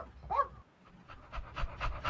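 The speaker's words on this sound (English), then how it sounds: "Let me click this small doggy. See, can you hear the voice? Can you hear the sound?" A small virtual puppy pants in an augmented reality classroom app, giving quick, soft breathy puffs played at close range and fairly faint, with a brief higher whine near the start.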